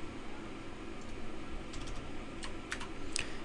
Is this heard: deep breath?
no